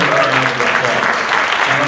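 A round of applause for a reverend rises from a congregation at a Unity of New York service: dense, steady clapping fills the room throughout, with a few voices mixed in underneath.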